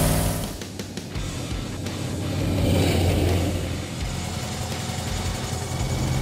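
Gasser wagon engine rumbling and revving through loud exhaust pipes, a steady close, throaty drone that swells and eases without a break.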